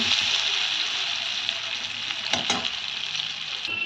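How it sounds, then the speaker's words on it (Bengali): Elephant foot yam lightly frying in oil in a pan, a loud steady sizzle close by with a couple of stirring scrapes, no voices. "ওলটাকে হালকা করে ভেজে নেব।"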